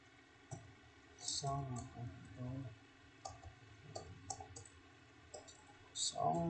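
Keyboard keys clicked in short bursts while a database query is entered, light close-up tapping scattered among pauses, with a voice talking quietly underneath.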